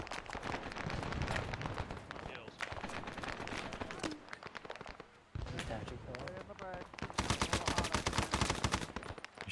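Rapid bursts of gunfire in a multiplayer military shooter, dense volleys and single shots running almost continuously and loudest near the end, with players' voices talking over them.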